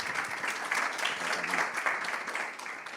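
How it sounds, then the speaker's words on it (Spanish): Audience applause welcomes a speaker onstage at a startup talk on marketing leadership: a dense, steady wash of many hands clapping that fills the whole stretch before tapering slightly at the end. "Y le damos un aplauso,"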